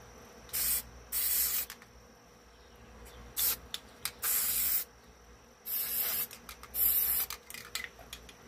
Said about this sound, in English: And then we'll spray some of this glue